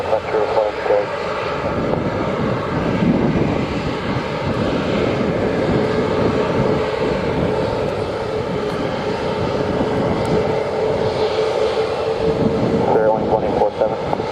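A fixed-wing aircraft taking off at a Jamaican airport, a loud, steady engine roar sustained throughout with some radio-style voice communication under it.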